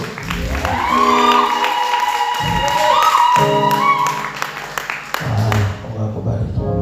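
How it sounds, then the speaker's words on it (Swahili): Church congregation clapping hands for Jesus during a Friday worship service, sustained crowd applause mixed with singing and a preacher's voice over the top, loud and continuous. "Piga makofi kwa Yesu"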